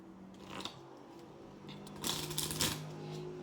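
Tarot cards riffle and shuffle nearby in short bursts of papery flutter, with a brief shuffle first and a longer one a moment later.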